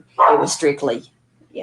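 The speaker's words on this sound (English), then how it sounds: "clearly you can hear the dog in the background" A dog barks and yips in the background of a recorded conversation, a few quick sharp barks mixed in with a person talking over them.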